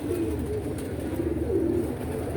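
A pair of teddy pigeons coos in soft, repeated low throaty calls, close and moderately loud over a faint background hum, with no talking.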